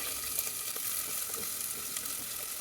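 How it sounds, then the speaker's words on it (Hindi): Whole spices and a large onion sizzle and crackle steadily in hot oil, a close, continuous frying hiss with no voices over it. "जैसे ही हमारे मसाले होते हैं क्रैकल, हम इसमें डाल देंगे एक बड़ी प्याज।"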